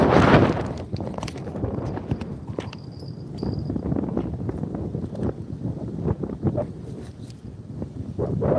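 Wind gusts across a frozen lake during ice fishing on a windy day, giving a steady, close low rumble of buffeting with scattered knocks and clatter.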